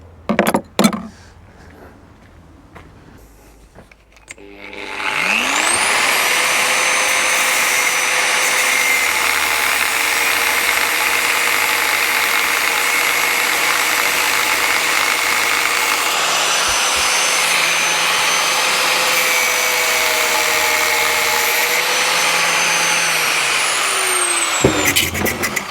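A power tool with no guard fitted runs loud and steady for about twenty seconds while trimming the end off a hedge branch beside a deep ditch, whining up sharply at the start and winding down at the end.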